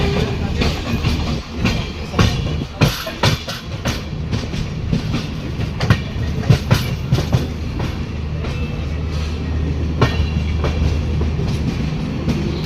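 Taj Express on the Amritsar to New Delhi line rolls in, heard from inside a general coach as a steady loud rumble with rhythmic wheel clatter and scattered clanks throughout.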